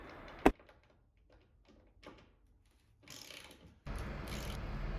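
Screws are driven into a wall for a barn door track, a sharp knock followed by quiet intermittent ratcheting clicks and scraping, ending in a louder steady rasp of driving.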